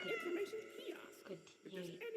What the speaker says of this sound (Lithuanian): Aš einu dar vieną kartą paglausti tą mažą katinėlį.